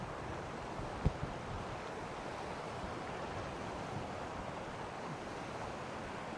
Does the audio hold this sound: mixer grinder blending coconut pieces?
no